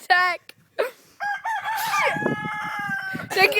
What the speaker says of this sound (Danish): Den syge hane.